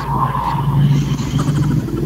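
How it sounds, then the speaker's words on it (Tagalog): Passing vehicles on a busy road, a loud continuous rumble of traffic with a rising whoosh as a car goes by close. "Maingay po, sir, yung mga sasakyan na dumadaan."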